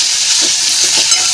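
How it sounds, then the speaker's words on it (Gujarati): Water poured into a hot tempering for muskmelon peel sabzi gives a loud, close hiss and sizzle with a few soft stirring knocks, continuous for the short moment. "હવે આપણે મીઠું નાખ્યા પછી હવે આપણે એમાં પાણી નાખીશું."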